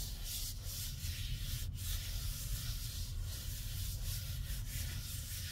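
Cardstock is rubbed down onto a gel printing plate by hand, producing a continuous dry, even scuffing close up with no talk.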